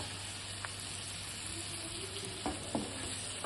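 Quail eggs and curry leaves sauté in a hot pan with a steady, close frying sizzle throughout, broken by a few sharp spatula scrapes and taps near the end.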